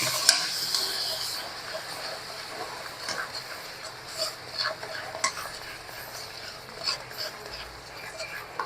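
Cumin paste fries gently over low heat in mustard oil in a home kitchen, a soft steady sizzle broken by faint stirring clicks and scrapes, quiet and close.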